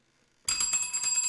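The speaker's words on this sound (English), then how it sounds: "There's a small bell on the counter. She's gonna ding the shit out of it." A small bell on a counter dinged once after brief silence, a bright ringing tone that sustains and shimmers for the rest of the moment, close and clear with no voices.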